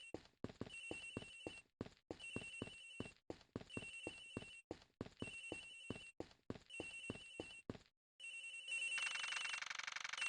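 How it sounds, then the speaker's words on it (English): A phone rings repeatedly in the video game Ace Attorney Investigations, sounding as a regular series of bright electronic trills separated by short pauses. The ringing ends and a brighter, hissing game sound takes over. "Agent Hicks' phone. It's ringing from somewhere, sir."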